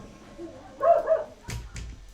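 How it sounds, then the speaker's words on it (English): A dog gives a few muffled barks at a distance, short and faint against quiet indoor background. "You're gonna hear barking."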